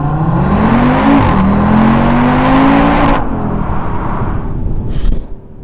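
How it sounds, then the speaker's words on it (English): Loud, close exhaust roar from a 2024 Audi RS3 accelerating hard, its pitch climbing steadily through the gears with a brief shift dip, then dropping off into a lower steady drone. "For a 2024 car, it sounds mega, and Audi have actually said in their press release that they have fettled the exhaust just slightly so that it sounds good"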